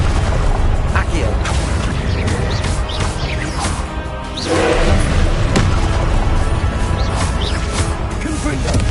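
Spells cast in Hogwarts Legacy, with Confringo fire blasts and Expelliarmus disarming charms going off in combat, loud repeated booms, crashes and thuds packed close together, with voices mixed in.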